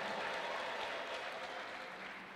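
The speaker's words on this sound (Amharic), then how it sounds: "ማጨብጨብ የምትችሉ ሰዎች አጨብጭቡ" Church congregation clapping steadily throughout, a dense wash of hands at moderate loudness that slowly tapers slightly toward the end, with no talk over it.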